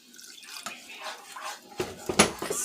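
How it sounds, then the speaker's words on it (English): A small splash of water is poured into homemade barbecue sauce for tofu, heard as a quiet, close trickle followed by brief drips near the end. "I'm going to add a little bit of water."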